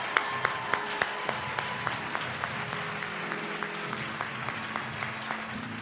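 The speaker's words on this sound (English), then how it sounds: "Let's give them a very enthusiastic number 10 round of applause." Enthusiastic audience applause at an evening community awards ceremony, a steady, fairly distant wash of many hands clapping that carries on for several seconds with a few sharper individual claps standing out.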